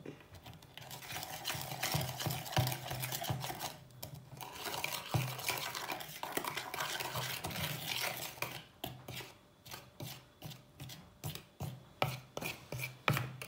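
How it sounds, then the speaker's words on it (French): Cake batter with flour being mixed in a bowl or glass, a steady scraping, tapping stir close up that turns into quicker rhythmic strokes toward the end. "on mélange bien Candice, car sinon les grumeaux, c'est pas cool dans le gâteau"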